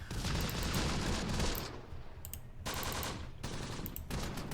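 Machine gun fire in Close Combat: The Bloody First, with long rattling automatic bursts and brief pauses between them, loud and near, without talk.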